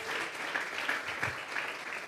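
A church congregation gives a hand-clapping offering of praise to God, a soft, continuous patter of many hands heard from a distance with faint voices mixed in.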